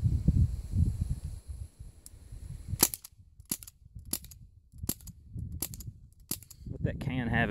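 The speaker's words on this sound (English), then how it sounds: "we decided to shoot some pellet guns and stuff" Pellet guns fire at trash targets near an open-pit mine site, five or six sharp cracks spaced about a second apart, close and loud, with a bit of low talk and rustling before the first shot.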